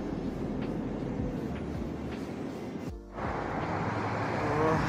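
A train passing, a steady rumbling rail roar of moderate loudness that dips briefly and then swells again, with no talking.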